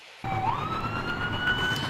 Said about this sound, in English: You can hear sirens behind me.